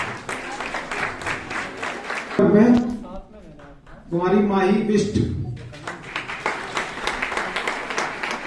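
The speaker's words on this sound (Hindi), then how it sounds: "लोग कृपया करके जोर जोर से तालियां बजाएं उत्साहवर्धन के लिए।" An audience at a children's Aipan art competition in Nainital claps loudly for the young entrants, steady applause breaking off midway while a presenter announces a name over a microphone, then swelling again.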